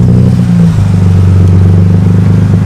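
A straight-piped Lexus ES300 with its muffler deleted drones loud and close, a raw, steady exhaust rumble that lifts slightly as the engine is revved.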